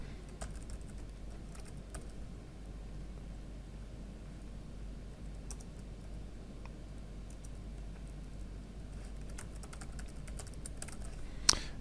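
Keystrokes on a computer keyboard while admin login credentials are entered: sparse, soft, close clicks over a steady low hum, with one sharper tap near the end and no talking.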